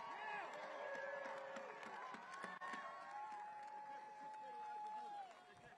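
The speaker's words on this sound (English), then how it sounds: "Let's give everybody who has ever done that a hand. Let's give them a cheer." A crowd at an outdoor protest rally in Washington, D.C. cheers, whoops and claps for veterans. The sustained, fairly distant roar of applause and shouts fills the whole moment.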